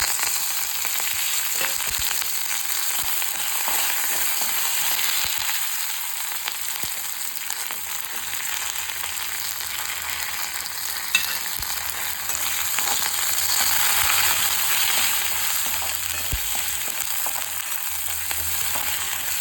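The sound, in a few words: tempering frying with curry leaves, ginger, green chillies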